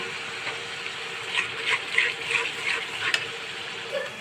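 Spice paste cooked down with onion paste and grated tomato for a fish curry, giving a soft, steady sizzle with a few gentle stirring scrapes close by.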